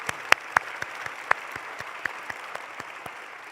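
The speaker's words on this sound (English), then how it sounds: "can we all give a round of applause to Richard Louie for giving voice to our community for all these decades?" Sparse, scattered claps from a White House heritage celebration audience honoring a community figure, a dozen or so individual hand claps spread unevenly and fairly quiet, with no voices.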